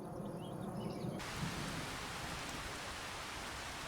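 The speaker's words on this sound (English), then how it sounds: "It's still raining." Steady rain hisses in the farming video game Farming Simulator 25, a soft, even wash of noise that stays constant throughout at low level, with faint game sounds briefly audible at the start.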